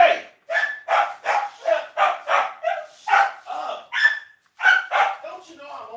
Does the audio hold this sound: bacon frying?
no